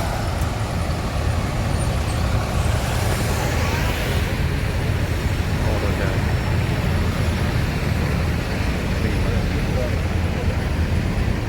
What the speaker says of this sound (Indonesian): Ramayana satu bus ya berangkat